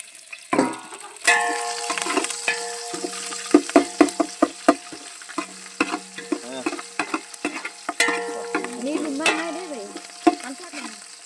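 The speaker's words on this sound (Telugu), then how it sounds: "ఉల్లిపాయలు వేగిందా? వేగింది." Onions fry and sizzle in a pan for a village-style crab curry while a spoon repeatedly scrapes and clatters against the metal, giving an uneven series of close, sharp knocks over a soft background hiss.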